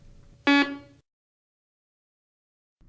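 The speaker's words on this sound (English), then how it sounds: "turn the detector on." A walk-through security metal detector powering on gives a single loud, harmonic electronic beep about half a second long, followed by silence.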